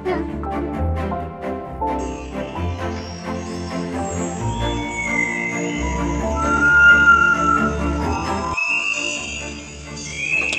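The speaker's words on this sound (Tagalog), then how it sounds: "Yung naririnig yung tunog ng ibon, sa background, yun yung tunog ng agila." A Philippine eagle's high, thin whistling call plays in a natural history museum exhibit hall in Manila, threading repeatedly over a dense wash of ambient background sound. No one speaks.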